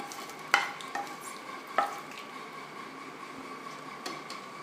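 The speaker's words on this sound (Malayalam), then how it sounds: "നമുക്ക് വറുത്ത് വെച്ച കടുക് വറ്റൽമുളക് കറിവേപ്പില ചേർത്ത് കൊടുക്കാം" Soft, faint sizzle of a hot tempering of fried mustard seeds, dried red chillies and curry leaves poured into a pot of banana kalan curry, with a few sharp metallic clinks of a spoon against the vessel.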